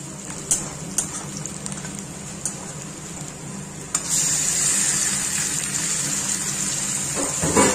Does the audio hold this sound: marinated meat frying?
yes